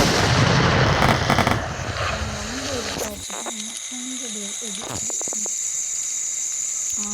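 Firecrackers burst outdoors at night in a loud, crackling barrage lasting about three seconds, after which people talk over quieter background noise.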